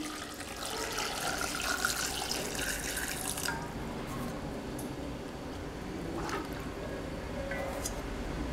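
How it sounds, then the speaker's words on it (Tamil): Water is poured into a pressure cooker over white chickpeas, a steady splashing stream that runs for several seconds before thinning to gentler trickles and drips. "இந்த அளவுக்கு தண்ணி விடலாம்."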